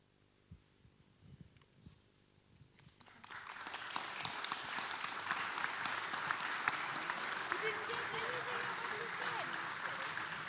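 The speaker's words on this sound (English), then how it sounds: "All of you applaud." An audience at an evening event breaks into applause after a quiet opening, dense clapping swelling in and holding steady and loud with faint voices beneath.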